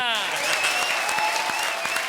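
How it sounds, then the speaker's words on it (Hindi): A studio audience at a televised Indian comedy show claps loudly and steadily, with a sustained musical tone ringing over the applause. "ताली बजा रहा हूं"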